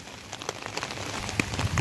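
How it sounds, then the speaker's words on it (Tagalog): Steady rain pattering on surfaces across farmland where chestnuts are gathered, a close, dense hiss of drops with scattered sharper ticks throughout the brief stretch. "Umuulan. Basa ang paligid."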